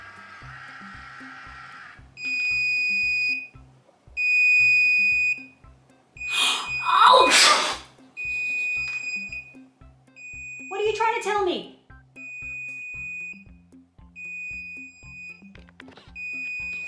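A hair curler ordered from Wish beeps its timer in evenly spaced pairs of high electronic tones that repeat across the stretch, with a person talking over them in a few places.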